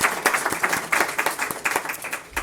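Audience clapping at a Swedish panel event on corruption risks in the defence sector, a burst of sharp claps of moderate loudness lasting a couple of seconds.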